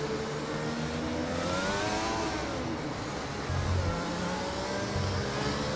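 A Mercedes race car in a racing video game accelerates through its gears. The engine note climbs and drops in repeated sweeps, a steady, close, whining roar with no talk over it.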